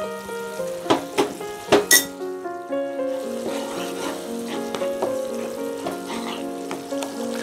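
Papaya pickle mixture with Kashmiri chilli bubbles and sizzles in a pan, a few sharp clinks and stirring knocks at first, then a steady crackling frying sound close by with no talk.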